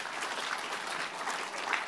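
Steady applause from a church congregation, many people clapping at once in a continuous, even patter that stays at a fairly loud level throughout.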